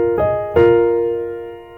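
Piano playing two struck chords from a jazz piece, the second hit stronger, then ringing and slowly fading, close and clear with no talk.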